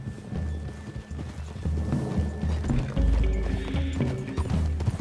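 Horse hooves in Red Dead Redemption 2 clop steadily at a walking pace over rumbling, dramatic background music, with a horse snorting nearby.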